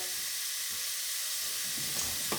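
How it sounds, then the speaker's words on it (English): Carrots and garlic flakes sizzle in a hot pan with a steady, dense frying hiss throughout, fairly close and unbroken, with no voices over it. "So let's just chuck those in the pan."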